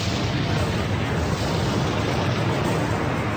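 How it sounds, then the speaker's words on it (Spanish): Vesuvius erupting in a blast that hurls a giant plug of rock and earth skyward, heard as a loud, dense, continuous roaring rumble with no break and no voices. "Un gigantesco tapón de roca y tierra fue lanzado al aire, en una explosión 1000 veces más potente que la bomba que cayó sobre Hiroshima."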